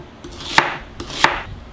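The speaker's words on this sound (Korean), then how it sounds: "슬라이스로 약간 도톰하게 썰어줍니다" A kitchen knife slices the white part of a green onion into thick pieces on a cutting board, giving two crisp, close chops about two-thirds of a second apart, each with a light knock, and no talking.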